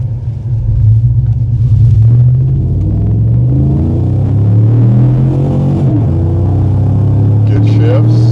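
A 5.3 Chevy Silverado with long tube headers, a custom tune and 93 octane fuel accelerating hard from 0 to 60: a deep, loud rumbling exhaust climbing through gear shifts, heard from inside the cab.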